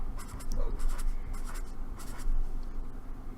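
A pencil scratching across paper in bursts of quick strokes, close and steady, with a few short pauses and no speech.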